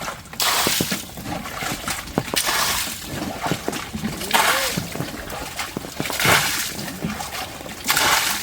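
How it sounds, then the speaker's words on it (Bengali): Repeated scoops and splashes as rainwater is bailed by hand out of a small wooden crab-fishing boat after monsoon rain, coming in irregular bursts of sloshing and dripping water close to the microphone. "আমাদের নৌকায় জল সিঁচতে হবে।"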